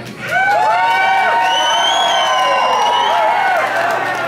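Concert audience at a live show in a Pittsburgh theater cheering, whooping and applauding loudly, a dense sustained roar of voices and claps that swells in and holds steady throughout.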